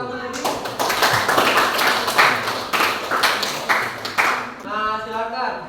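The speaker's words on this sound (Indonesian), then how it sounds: "Oke, tepuk tangan lagi untuk kelompok satu ini." Students in a classroom clap for group one in several uneven bursts close by, with voices talking at the start and end.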